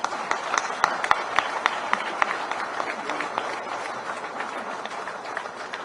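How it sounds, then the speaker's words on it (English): Crowd at the Balikatan 2023 military exercise opening ceremony clapping, a steady rattling round of applause with sharp individual claps standing out, heard at some distance. "A big round of applause, please."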